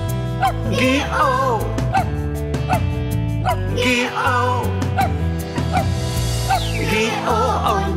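Cartoonish dog barks and yips punctuate a German children's song about a farmer's dog, the short woofs repeating in rhythm over bouncy backing music and singing.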